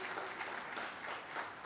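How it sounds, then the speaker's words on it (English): An audience at a post-budget dialogue for fiscal year 2024/25 applauds a panel: steady, dense clapping, fairly faint and even, with no break across the whole stretch. "Let's give them a big round of applause."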